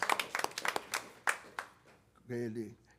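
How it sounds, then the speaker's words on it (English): A scattered patter of hand claps for a school orchestra at a board meeting, a few people clapping unevenly and fading out, followed by a short burst of voice. "Let's clap our hands for our"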